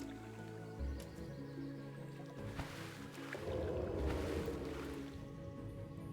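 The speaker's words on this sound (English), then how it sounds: "Wow, I swam down the waterfall." A World of Warcraft Classic character swims down a waterfall, with steady rushing, splashing water and a low ambient game backdrop, continuous throughout.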